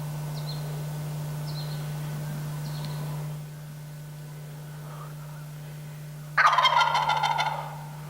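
A wild turkey near hunters gives a few short high calls, then a loud, close, rattling gobble bursts out near the end over a constant low hum.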